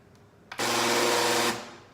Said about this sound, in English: My blender is going to malfunction on me.